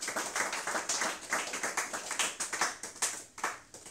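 A French-speaking church congregation claps to acclaim the Lord Jesus Christ, a fairly quiet run of quick, rhythmic handclaps at a steady pace, heard from a distance with no talk.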